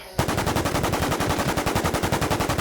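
An M16-style rifle fires a long, rapid automatic burst in WarZ Siam: a loud, evenly spaced stream of roughly two dozen close shots after a brief quiet start.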